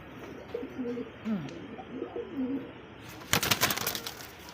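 Several Giribaz high-flyer pigeons coo in soft, repeated rolling calls close by, followed by a burst of fluttering wings and scuffling near the end.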